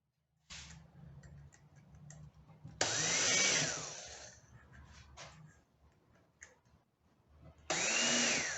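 A power drill driving 8 by 2 inch screws through pilot holes into a wooden corner shelf: two loud whirring bursts that rise in pitch as each screw seats, between quieter clicks and handling noises.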